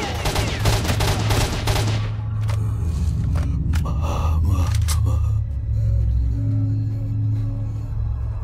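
Gunfire in S.T.A.L.K.E.R. Shadow of Chernobyl: a rapid burst of loud, close shots in the first two seconds, then a few scattered single cracks over a low rumbling game ambience.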